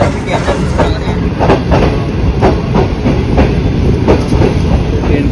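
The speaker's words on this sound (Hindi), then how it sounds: "ट्रेन गुजर रही है और डाउन का स्टॉप है" A train rolls past on the relaunched Pak Business Express route near Kot Lakhpat railway station, loud and close, with steady rumble and repeated rhythmic wheel clacks over rail joints throughout.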